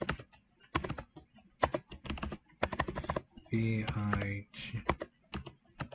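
Typing on a computer keyboard in short bursts of quick, clicky keystrokes, close and fairly quiet, alternating with a person talking.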